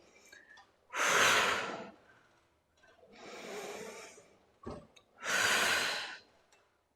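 Slow, deep breaths during a Pilates reformer exercise: three strong exhales with a gentler breath between them, close and clear, with no talk.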